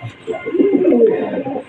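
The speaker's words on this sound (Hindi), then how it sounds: "कबूतर दिखाता हूँ सारे" A pigeon gives a low, soft coo close by, a brief throaty rolling call standing alone.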